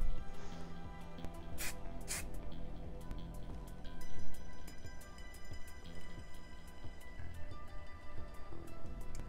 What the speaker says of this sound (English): I'm just gonna spray it there.